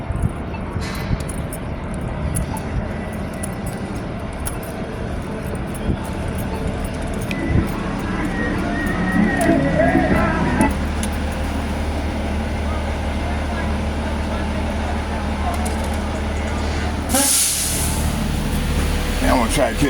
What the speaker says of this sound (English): And go my bus right here.